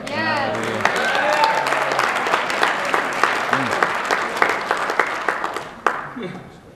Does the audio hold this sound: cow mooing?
no